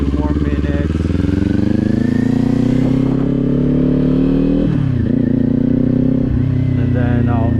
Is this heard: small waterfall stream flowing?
no